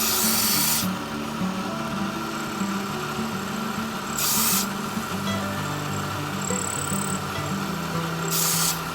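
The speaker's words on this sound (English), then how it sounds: "I'm using a 1/8 inch diameter end mill to recut this square hole" A 1/8 inch end mill recutting the square hole in an early Ford rear end spring bolt head gives a continuous close grinding whir, with a few brief hissing bursts over it.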